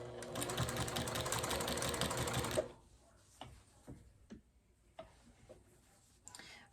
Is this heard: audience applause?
no